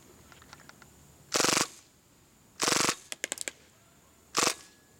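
An HFC T77 gas blowback airsoft gun fires on full auto in several short, sharp bursts separated by pauses, with one quick string of individual cracks in between.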